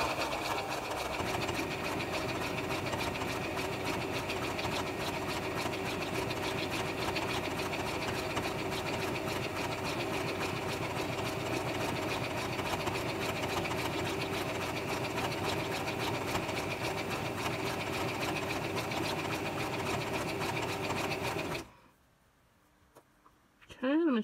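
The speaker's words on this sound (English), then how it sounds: "So you typically want to keep this on the zigzag stitch" A sewing machine runs steadily on a zigzag stitch while sewing a twisted headband, its close, even mechanical whir continuing for over twenty seconds before cutting off abruptly into near silence.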